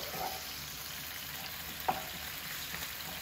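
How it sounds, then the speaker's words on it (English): Sichuan bean paste frying in oil makes a continuous, even sizzle up close, broken once by a brief utensil clink; no voices. "You want to fry this until you can see red oil."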